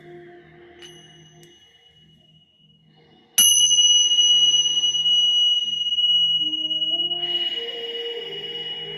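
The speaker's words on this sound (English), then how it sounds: "Just going to close out this short meditation with a little chime here." A meditation chime is struck once to close a short guided meditation. It gives a bright, clear ring that sustains and slowly fades over several seconds in a quiet room, with another soft tone rising near the end.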